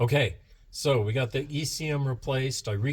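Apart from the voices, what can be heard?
None of the usual background noises is heard.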